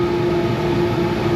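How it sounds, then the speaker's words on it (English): The blower system of a plastic bottle granulator starts up, giving a steady, loud, continuous hum with a strong tonal whine that fills the whole stretch with no pauses and no voices. "I'm just going to turn this on. First the blower system"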